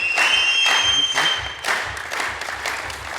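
An audience bursts into applause at a training session, a dense wash of clapping from many hands that is loud at first and then eases to a steadier, thinner patter.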